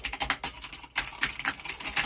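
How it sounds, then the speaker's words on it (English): Rapid, uneven clicking of a clicky mechanical keyboard being typed on, close and fairly loud, with a brief pause partway through and no talking. "These, what they call clicky keyboards. They're like a mechanical"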